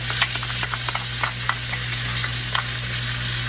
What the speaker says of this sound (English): make a little room in your skillet in the middle, like that, and add your garlic